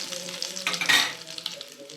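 Curry leaves and dried red chillies hit hot oil for a Tamil pomegranate poriyal, bursting into a loud crackling sizzle that peaks sharply then settles into a softer fry.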